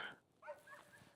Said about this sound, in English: in the background my dogs are barking right now.